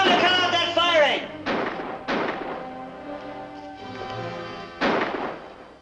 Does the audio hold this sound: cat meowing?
no